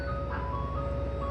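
An ice cream truck plays its chiming jingle over a low idling engine rumble, heard briefly and steadily at moderate volume with no voices.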